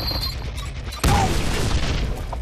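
A sudden explosion in the Deadpool video game, a single sharp boom one second in that drops into a dense rumbling tail, with quieter game noise before it.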